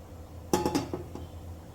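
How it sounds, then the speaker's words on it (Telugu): Metal lid set onto a cooking pot while making carrot halwa, a sharp clanging clink followed by a few quick rattling taps as it settles, then quiet kitchen background. "ఇప్పుడు మళ్ళీ మూత పెట్టేద్దాం"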